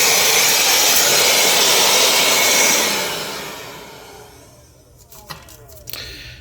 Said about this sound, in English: Today I have the Ryobi workbench blower